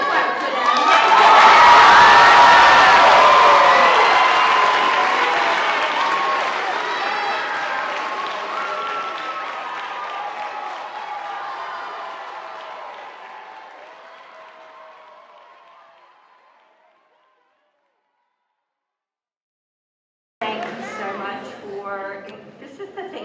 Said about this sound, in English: Yes, you can clap for them.